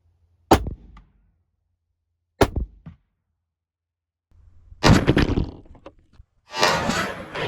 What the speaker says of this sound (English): I'm expecting quite a big explosion out of this one.